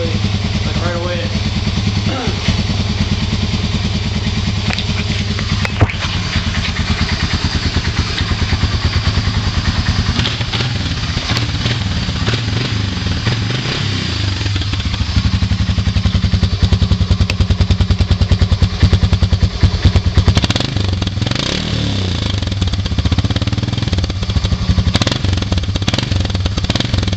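Small Honda 300 ATV engine idling after a cold start, a steady mid-pitched putter with clattery thumps, settling into an even rhythm near the microphone.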